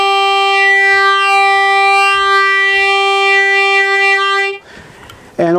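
A TurboHarp harmonica holds one sustained, reedy note for several seconds while its tone shifts as the air chamber volume changes, then cuts off into a brief breathy rasp.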